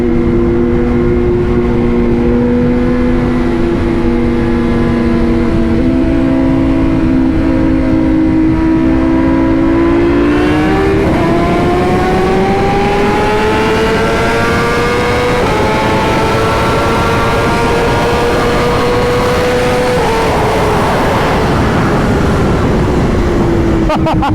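2021 BMW M 1000 RR and Honda CBR 1000RR-R Fireblade SP racing side by side, loud sustained engine howl rising steadily in pitch with brief dips at gear changes, heavy wind roar underneath.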